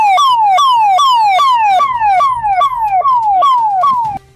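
An ambulance siren on a badly damaged six-kilometre stretch of the old Upleta road in Dhoraji wails in rapid repeating sweeps, about ten cycles, loud and close, then cuts off abruptly at the end.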